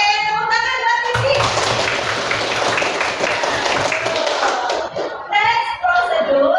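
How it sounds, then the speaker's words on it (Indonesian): A group claps for a student named Sisi during an Indonesian-language classroom lesson: a dense burst of applause lasting about four seconds, with a voice talking just before and after it. "Oke, tepuk tangan buat Sisi."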